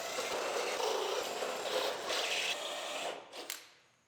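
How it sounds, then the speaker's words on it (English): Drill bit grinding steadily through the sheet-metal roof of a 2019 GMC Sierra Denali 2500HD pickup, a continuous close, harsh whir that cuts off near the end. "Now we can drill all the way across the back."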